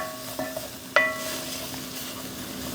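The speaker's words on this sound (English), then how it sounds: "And just stir this in." All-purpose flour is stirred into a hot pan for a green bean casserole, giving a soft low sizzle with a single sharp clink of the utensil against the pan.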